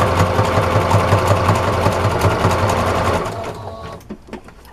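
A sewing machine stitches a zigzag through a dish-washing sponge, loud and close with a fast steady mechanical chatter that slows and stops near the end, leaving a few faint clicks.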